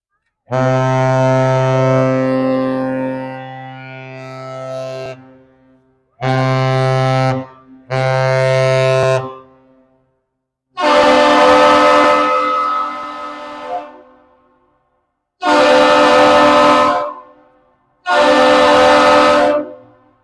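The lake freighter Herbert C. Jackson sounds a deep, very loud horn salute while departing Duluth, Minnesota: one long blast, two shorter ones, then three more long blasts, booming across the harbor without speech.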